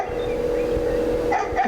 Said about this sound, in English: I wish that dog would stop barking.